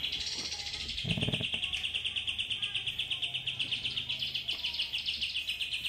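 A young hill prinia, about three months old, sings a rapid, continuous stream of high chirping notes close by, with a short muffled knock early on.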